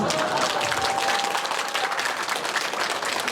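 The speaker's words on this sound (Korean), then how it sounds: "조례 제정을 꼭 해주시라고 시의원님들께 큰 박수 부탁드리겠습니다" An audience at a civic academy presentation in Iksan gives a big round of applause, dense continuous clapping from many hands, loud and close for the whole stretch.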